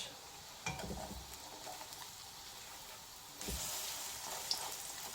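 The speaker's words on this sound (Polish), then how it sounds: "Ja smażę na smalcu wszystko." Elderflower heads in spelt batter fry in lard, giving a faint, steady hiss of sizzling with a sharper crackling burst as more battered flowers go into the fat.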